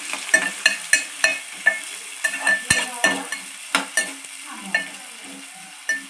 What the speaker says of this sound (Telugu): తాలింపులు పచ్చిమిరపకాయలు వేసేసుకుందాం. ఇవి కూడా బ్రౌన్ కలర్ వచ్చే వరకు వేసుకుందాం.